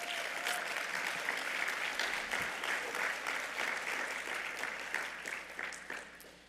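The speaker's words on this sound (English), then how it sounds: "I appreciate the applause" Sustained applause from an audience at a presidential award presentation, a dense, even patter of many hands that holds steady at moderate level and then starts to thin toward the end.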